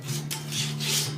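Stainless grill grates of a Komodo Kamado grill are scrubbed by hand, giving repeated rasping back-and-forth strokes over a low steady hum, close by, with no talking.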